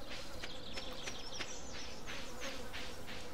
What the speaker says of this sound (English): Oh god, you can hear the buzzing.